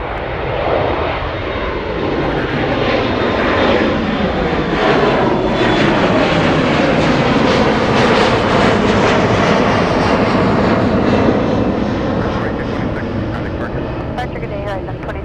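A heavy jet, likely an MD-11 or 747 freighter, roars through its takeoff roll at Anchorage airport, loud and sustained with a rising then fading sweep, while radio chatter and voices talk over it.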